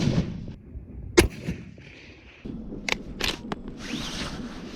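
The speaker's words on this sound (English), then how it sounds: "I'm gonna take another shot at the center target" A Savage Axis XP .308 rifle fires a single sharp shot at a target range, a loud crack followed by a few fainter distant reports and light outdoor background noise.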